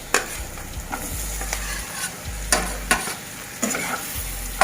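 Boiled raw banana pieces tossed into a hot pan for a fry, a steady sizzle of oil under repeated sharp scrapes and knocks of a spatula stirring the pieces, close and alone.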